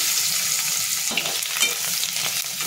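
Turmeric and ground spice masala fry in hot oil with a dense, close sizzle, broken by scraping stirs and soft clatters of the spoon against the pan.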